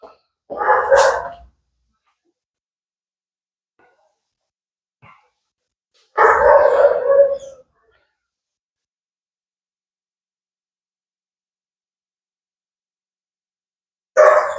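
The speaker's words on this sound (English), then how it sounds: "And now all of a sudden got the dog barking, raising Cain." A dog barks outdoors at people nearby on the corner. Three short, loud bursts of barking are spaced several seconds apart, with quiet gaps between them.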